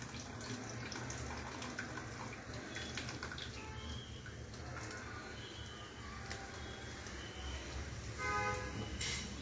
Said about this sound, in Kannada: ಅದಕ್ಕೆ ಯಾವಾಗಲೂ ನಾವು ರೈಸ್ನ ಈ ಥರ ನೀರು ಡ್ರೈನ್ ಮಾಡಿಬಿಡ್ತೀವಿ